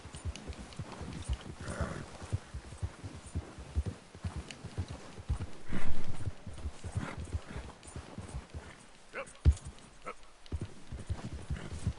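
Rapid horse hoofbeats clatter in a quick galloping rhythm in the video game Red Dead Redemption 2, fairly soft, with a louder thump partway through.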